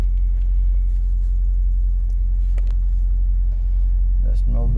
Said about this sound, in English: So we put in reverse and just move the car.